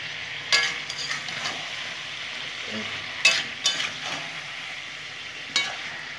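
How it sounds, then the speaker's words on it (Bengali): Vegetables frying in a pan for a Bengali dry curry, stirred with a utensil: a steady low sizzle with several sharp scraping clinks of the spoon against the pan, no talking. "আর একটু নেড়ে চেড়ে নেবো।"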